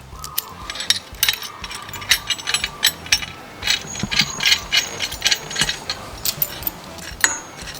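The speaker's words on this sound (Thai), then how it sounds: "แล้วก็ขันยึดให้แน่นเลยนะครับ" Ratchet wrench tightening a bolt on a pocket bike, rapid rhythmic clicking of the pawl in quick bursts, close and loud, with short pauses between strokes.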